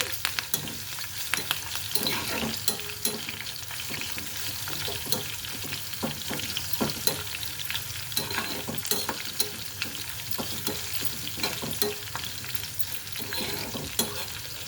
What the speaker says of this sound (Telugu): కొద్దిగా స్టవ్ పెంచుకుందామండి, మీడియం ఫ్లేమ్, వెల్లుల్లిపాయ వేగటానికి.